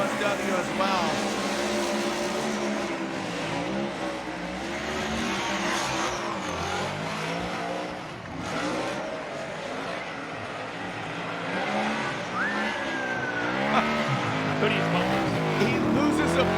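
Pennzoil Mustang RTR Spec 5D drift car on a competition drift run, engine roaring loudly and continuously with revving and sliding tire noise, under a commentator's voice.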